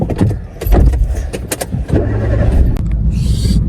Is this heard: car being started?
yes